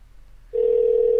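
After a brief quiet, a telephone line gives a single steady tone as someone dials out to place a call, loud and sustained with no voices.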